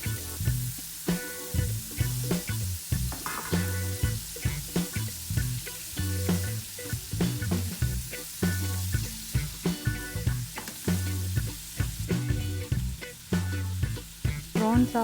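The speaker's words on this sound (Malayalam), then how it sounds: "പ്രോൺസ് ആവശ്യത്തിന് ഫ്രൈ ആയി വന്നിട്ടുണ്ട്." Prawns frying in a pan for a Kerala prawn roast, a sizzle beneath a constant pulsing background of music, stirring scrapes scattered through.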